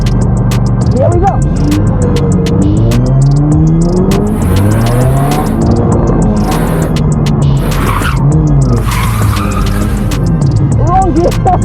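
A car performing a J-turn, engine revving and tires squealing in drawn-out, rising and falling skids, loud and close, while a driver speaks over the noise.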